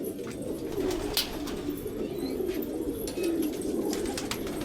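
Caged domestic pigeons, males and females kept apart, give soft, low, rolling coos that repeat close by over a continuous murmur.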